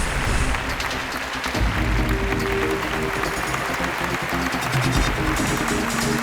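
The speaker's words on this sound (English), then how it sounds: "A big round of applause for Health Wheels team." Sustained applause for award winners at an awards night ceremony, a steady broadband patter of clapping that carries evenly from start to finish with a faint crowd murmur beneath it.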